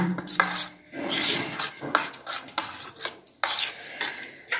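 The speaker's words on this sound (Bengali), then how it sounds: "এবার চামচের সাহায্যে খুব ভালো করে আমি এটাকে ফেটিয়ে নেব" A spoon beats five eggs in a bowl with quick, uneven strokes. The scraping, clinking bursts are close and heard alone without talk.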